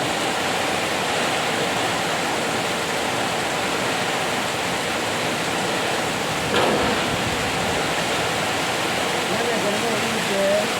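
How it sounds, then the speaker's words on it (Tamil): Loud, constant roar of strong wind during a heavy rainstorm with thunder and lightning, a dense rushing noise with a brief gust near the middle. "பாருங்க காற்று"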